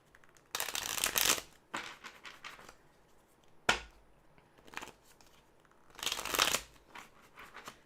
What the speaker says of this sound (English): I'm going to shuffle cards.